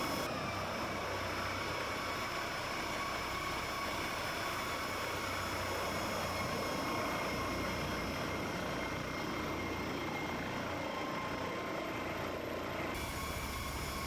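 A VSL 902X-NTR helicopter in the X-Plane 12 flight simulator, its engine giving a steady, loud turbine whine and rotor drone that holds constant for the whole stretch, with no talking.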